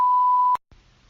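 An answering machine gives one long, steady electronic beep, loud and clear for about half a second, then cuts off abruptly into quiet line noise.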